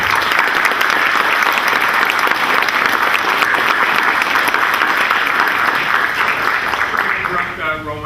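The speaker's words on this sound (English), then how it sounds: "I think a round of applause in order" Applause from the audience at an astronomy club's monthly meeting, a loud, dense round of clapping that continues steadily and fades slightly at the end, with voices faintly mixed in.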